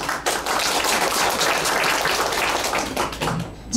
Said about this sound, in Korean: 박수 소리가 작으면 안 들어갑니다.